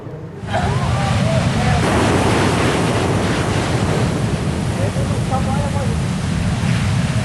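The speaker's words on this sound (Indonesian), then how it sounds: "tingginya gelombang laut pantai selatan masih terjadi dengan ketinggian mencapai 5 meter" High sea waves up to five metres crash on a southern Java coast beach, a loud continuous roar of surf with heavy wind buffeting the microphone and a voice faintly audible beneath.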